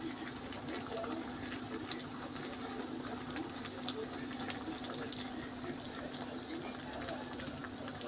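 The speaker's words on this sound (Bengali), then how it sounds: "নারকেলের দুধটা দিচ্ছে ছেঁকে।" Coconut milk is strained and poured into a pan for a prawn malai curry, making a soft, steady trickle of liquid over a constant low kitchen hum, with no clear splashes standing out.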